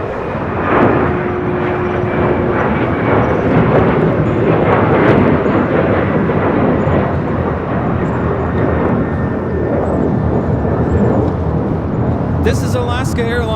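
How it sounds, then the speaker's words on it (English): An Alaska Airlines Boeing 737-900ER takes off at LAX bound for Guadalajara, a loud, steady broadband jet roar that holds for the whole stretch, with faint talk and radio chatter in the background. "This is Alaska Airlines 1432 taking off to Guadalajara on a 737-900ER."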